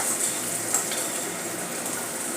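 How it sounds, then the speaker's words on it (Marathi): Green chillies and onion sautéing in a pan: an even, continuous hiss of frying, steady and close with no distinct stirring strokes and no voices. "गुलाबी होईपर्यंत आपण परतून घेऊयात"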